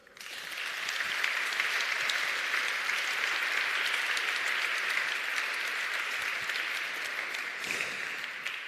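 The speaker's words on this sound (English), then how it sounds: "I may now kindly ask you to step forward with a round of applause" Steady audience applause at an award gala, a continuous wash of many hands clapping, moderately loud and unbroken for around eight seconds with no talk over it.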